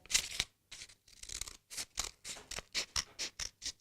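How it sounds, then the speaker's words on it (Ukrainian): Scissors snip through paper for a 3D snowflake in about a dozen close, crisp cuts, slow and uneven at first, then a quicker regular rhythm, with no voices. "пам'ятаємо правила техніки безпеки при користуванні з ножицями. Розрізаємо ці лінії, не дорізаючи до кінця."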